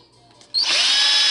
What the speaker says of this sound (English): you go right on top of the mark that you created, and you just drill